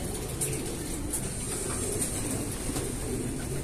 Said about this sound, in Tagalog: Tapos ito naman ay ibon ni Sir Manigo.